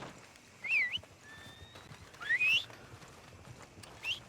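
Horse whinnies and neighs in Red Dead Redemption 2, three short high calls spaced over a few seconds against a faint background, with soft hoof steps barely present.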